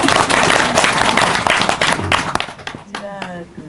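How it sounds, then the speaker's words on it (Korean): Lecture audience applauding loudly at a talk, dense clapping filling the first half before thinning out as a voice begins speaking over the fading claps. "박수."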